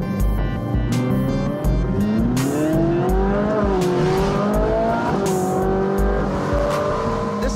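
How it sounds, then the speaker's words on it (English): A commuter car's engine revs hard and climbs through gears, loud and close, with rising and falling engine pitch and possible tire squeal, and no talk. "This is my commuter car"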